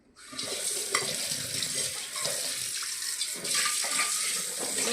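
A tap runs steadily while dirty dishes are washed at a sink, a close, continuous rush of splashing water with small irregular knocks, and no voices.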